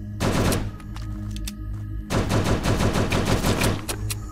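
Automatic gunfire shoots zombies in the zombie survival video game Last Hope Bunker. Two loud bursts of rapid shots are split by a brief pause, and the second burst is longer.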